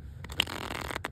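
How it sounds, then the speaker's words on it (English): Uno Flip cards are riffle-shuffled by hand in a brief, close, quiet flutter of a few soft card snaps. "Let me just shuffle it."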